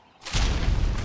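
A rocket blast in the video game Ark: one loud, deep boom bursting in after a short quiet lead-in and rumbling on to the end of the clip.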